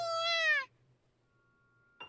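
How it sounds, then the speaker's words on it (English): A small black kitten gives one clear, rising-then-falling meow up close, followed by near silence and a brief faint squeak at the very end. "Transceiver cat meows sweetly in reply"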